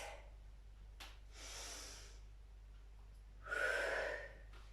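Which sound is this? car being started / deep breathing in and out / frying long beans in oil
deep breathing in and out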